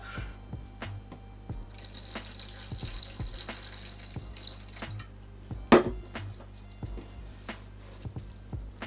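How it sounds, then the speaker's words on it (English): Tap water trickles and splashes into a vessel during Japanese indigo dyeing, a steady soft running sound with small drips and one sharper splash, no voices. "I'm just gonna add a bit more water."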